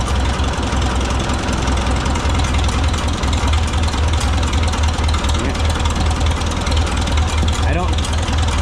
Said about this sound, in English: you run this screw in until the motor starts to labor